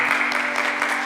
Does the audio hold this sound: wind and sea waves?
no